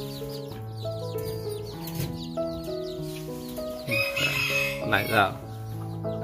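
A Koshamo gamecock clucks and calls among other chickens, with someone speaking briefly close by.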